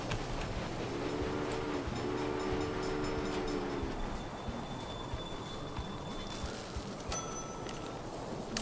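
A train rolls along in the railway simulation game Railway Empire, with a steady low rumble, a brief squeal of wheels, and a faint horn-like tone, all at moderate distance.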